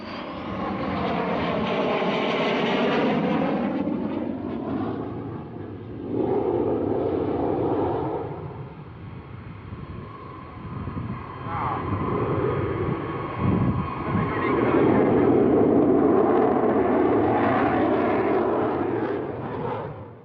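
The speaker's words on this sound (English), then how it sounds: "The MiG-29 is not a fly-by-wire aircraft, so this Cobra maneuver at low level needs great skill." A MiG-29 jet fighter performs a low-level Cobra maneuver at the Mildenhall Air Fete airshow. Its loud, continuous engine roar swells and sweeps in pitch as the jet passes, and the noise holds strong throughout.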